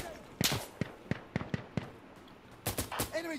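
Sharp gunshots in the video game Insurgency: Sandstorm, a rapid string of loud single cracks followed by a denser burst, with a voice talking in between.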